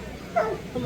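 A hunting dog gives a short, faint yelping bark at a raccoon up a tree at a Possum Trot festival in Pinewood, South Carolina, heard briefly at a distance under background noise.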